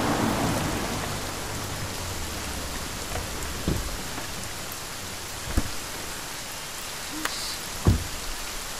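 Heavy rain pours steadily as a dense, even hiss, broken by a few soft low thumps of distant thunder, with no voices.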